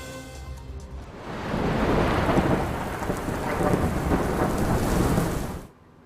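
Heavy monsoon rain pours down in Gujarat while thunder rumbles, building to a dense, loud roar that holds steady before cutting off abruptly. No voices are present.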